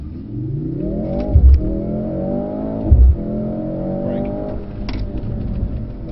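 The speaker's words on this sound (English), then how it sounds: "We're going to accelerate to 70 miles an hour." A Mercedes car accelerating hard toward 70 mph on the Brooklands track, heard from inside: a loud engine note rising in pitch through gears, with two brief shift dips and thumps, then a steady high drone.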